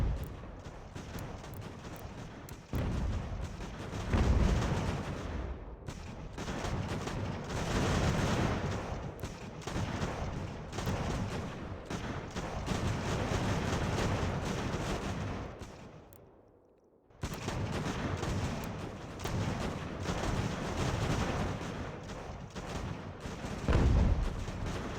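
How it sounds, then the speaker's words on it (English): Mortar blasts and musket fire fill a battle in the strategy game Ultimate General: American Revolution while a fort is defended. Dense, rolling gunfire and booming impacts continue without a break, pause briefly, then resume. "That mortars are scaring away our infantry."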